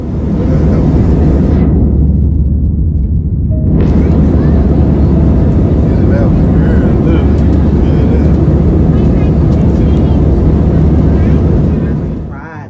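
Passenger airplane landing on a flight to Florida, a loud, steady roar of engine and wind noise inside the cabin that briefly dips in the upper range before resuming.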